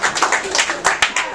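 Audience clapping at a stand-up comedy battle show, a short burst of scattered, uneven claps up close, with speech mixed in.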